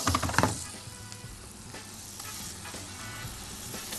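Food fries in a pan with melted butter, a close, steady crackling sizzle that is loudest at the start as it goes into the pan, then settles into a constant hiss.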